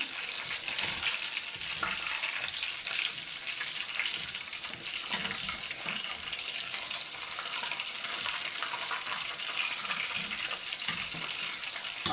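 Breaded paneer-style cheese fries in a pan, giving a continuous dense hiss of sizzling oil at an even, moderate level, close by and with no voices.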